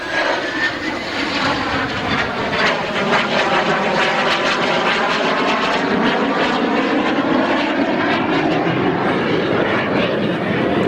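A Shorts Tucano turboprop trainer, built in Belfast, passes at an August 1997 air show at Abbeyshrule, its engine a loud, close, steady propeller drone that holds unbroken throughout, with no talking.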